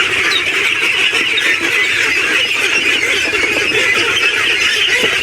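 A dense flock of geese on a duck farm honks continuously, a loud, close, overlapping chorus of nasal calls with no pause.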